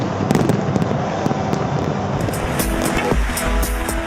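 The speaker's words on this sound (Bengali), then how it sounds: "বারো মিনিট ধরে ফোটানো হয় উনিশটি নৌকা বোঝাই আতসবাজি" New Year fireworks over Copacabana beach, launched from nineteen boats, crackle and pop in a dense continuous barrage of bursts against a roaring crowd-and-surf wash, loud throughout.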